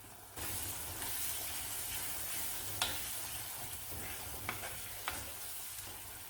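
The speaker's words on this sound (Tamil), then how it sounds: "எண்ணெய் பிரிஞ்சு வர்ற வரை கொதிக்க விடலாம்" Steady sizzling of a thick brinjal pickle mixture simmering in hot oil, with a few sharp pops and crackles rising above the continuous hiss.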